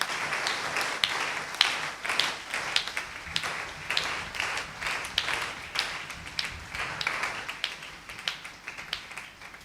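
A church congregation at a live Sunday service claps together for the Lord, a dense run of sharp hand claps in a loose rhythm filling the room, with no talking.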